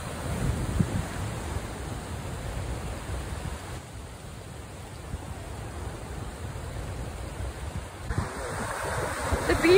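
Ocean surf rolls onto a Maui beach in a steady, close wash of broadband noise with wind buffeting the microphone, no voices present.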